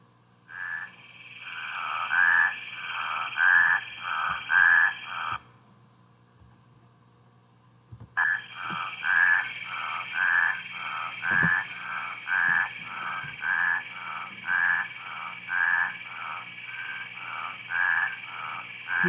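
A spadefoot toad calling in a spring chorus, repeated evenly spaced croaking pulses in two runs separated by a quiet pause, clear and fairly near over a faint hiss.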